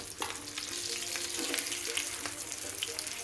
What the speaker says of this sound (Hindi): इनको अब हम फ्राई कर लेंगे।